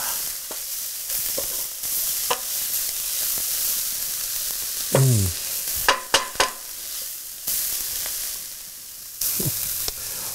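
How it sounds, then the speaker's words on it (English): Shakshuka sauce getting stirred in a hot pan, a steady sizzle with a few scraping spoon strokes and sharp clinks, close and fairly quiet. "You give this a big stir"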